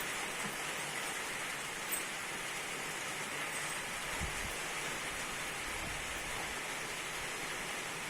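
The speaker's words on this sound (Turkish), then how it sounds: "Yağmurun sesi hakikaten bir güzel geliyor." Rain falls steadily around a farm barn, a broad continuous hiss with a faint low rumble or thud midway and a few soft drips, no one speaking.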